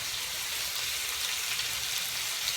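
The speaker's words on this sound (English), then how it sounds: "we're gonna go in here with the chicken, and we're gonna start frying it up" Chicken sizzles in a hot pan, a steady crackling hiss with small pops and no talking.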